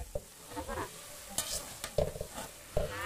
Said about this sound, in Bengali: চাউলটা ঢেলে দিয়ে ভালো করে সুন্দরভাবে এইভাবে নেড়ে চেড়ে এখন মিক্স করে নিন।